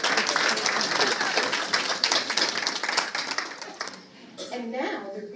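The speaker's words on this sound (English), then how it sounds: "So applause for us for showing up." Convention audience at a Talk Magazine event gives a thick burst of applause that holds for about four seconds, then thins out as voices take over.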